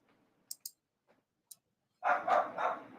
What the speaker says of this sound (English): This dog won't stop barking.